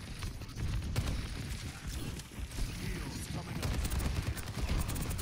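Soldier 76's rifle in the video game Overwatch fires in continuous rapid bursts, a dense crackle of gunfire running the whole time under other game sounds and a voice in the background.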